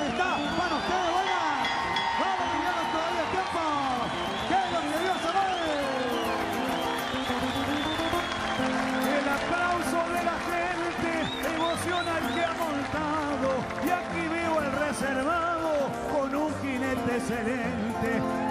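An audience applauds a rider at a folk performance, dense continuous clapping filling the space while voices and music-like tones carry over it throughout.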